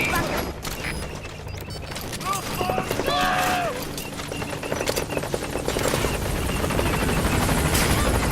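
Support helicopter from Metal Gear Solid V: The Phantom Pain arriving at a landing zone, a steady rotor drone building under layered game effects, radio-style voices and bursts of distant gunfire.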